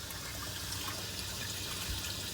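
Water pumped out of a 4000-gallon pond pours from a pipe, making a steady, even rush and splash that is fairly faint and continuous, with no voices.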